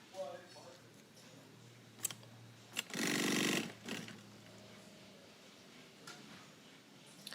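A sewing machine stitches down the first side of a fabric piece in one loud burst of about a second, with quiet handling and small clicks before and after.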